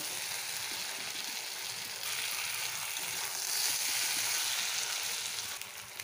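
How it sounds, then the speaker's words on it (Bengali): Potato pieces sautéing in hot oil with fish masala for a katla fish curry, giving a steady, close sizzle and crackle that swells slightly midway, with no talk over it. "আলুগুলো দিয়ে আর একটু সাঁতলিয়ে নেব"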